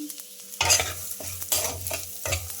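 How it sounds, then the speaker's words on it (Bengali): Dalia being fried in hot ghee spiced with cardamom and cinnamon, short bursts of sizzling as a spatula scrapes and stirs the pan, three or four strokes close by. "এখন ডালিয়াটা ভেজে নিচ্ছি"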